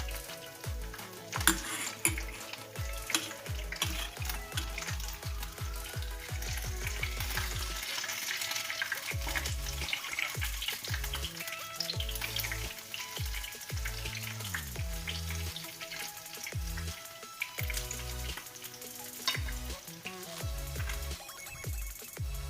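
Loud, continuous sizzling of cauliflower frying in hot oil, crackling and popping throughout with bursts of stirring and clattering.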